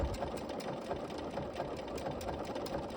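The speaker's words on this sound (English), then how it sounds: "I'm going to switch back to my blanket stitch and go around." A sewing machine runs a steady blanket stitch around an appliqué, its fast, even mechanical whirring continuous and close throughout.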